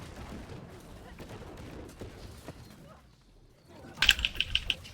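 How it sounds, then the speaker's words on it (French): Toward the end, a burst of rapid, clicky keyboard typing sounds sharp and close, after several seconds of muffled background noise. "On entend un clavier là."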